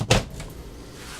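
The door of an LG WM3488HS washer dryer is pulled open, giving one short, fairly close thump and release at the start, followed by quiet room tone.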